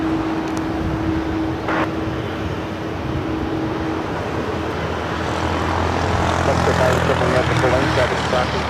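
Qantas airliner turning onto taxiway Bravo at Los Angeles International Airport, its engines giving a steady jet whine and rumble that swells toward the end, with talk running over it.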